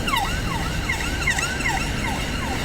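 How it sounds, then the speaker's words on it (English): Ambulance siren wailing at a roundabout in Stirling, Scotland, its rising and falling sweeps repeating steadily over continuous road traffic noise, fairly close and loud. "That's an ambulance."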